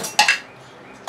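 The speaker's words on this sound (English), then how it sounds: "So she's going through silverware over there." Oneida silverware clinks and clatters as pieces are handled and sorted, a few sharp metallic jingles close by with a quiet gap between them.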